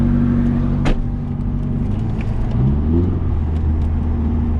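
A drift car's engine revs hard in sustained, loud bursts heard close from inside the car, with rising and falling pitch and no speech.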